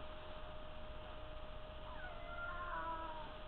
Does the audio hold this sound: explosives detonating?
no